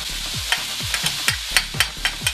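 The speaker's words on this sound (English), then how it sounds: "and saute it for about a minute" Onion, raisins, olives and garlic sauté in a pan with a steady sizzle, punctuated by regular scraping stirs roughly every half second, close and moderately loud.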